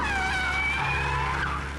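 A car in the Minecraft video game drives with a steady engine drone while tyres squeal in a long, wavering skid that slides up and down in pitch, fairly loud and close.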